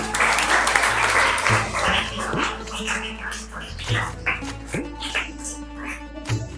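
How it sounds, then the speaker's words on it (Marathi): Audience applause for a correct answer at a school educational quiz competition, a broad clatter of clapping that fades after a couple of seconds, followed by scattered voices and light noises in the room. "साठी टाळ्या वाजवा."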